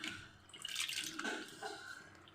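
Water splashing and dripping as soaked slices of potato for homemade chips are rinsed and lifted out, with irregular close trickles and splashes of varying strength.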